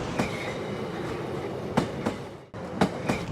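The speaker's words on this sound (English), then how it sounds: "that is a CNR rolling stock train" A CNR-built train in Thailand rolls past with a steady, loud rumble, broken by sharp clicks and thumps from the wheels passing rail joints and a brief dip near the end. No one speaks.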